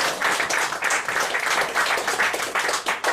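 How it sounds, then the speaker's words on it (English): Audience applause at a comedy mentalism stage show: dense, steady clapping from a crowd that fills the whole few seconds at an even, loud level. "Give it a round of applause."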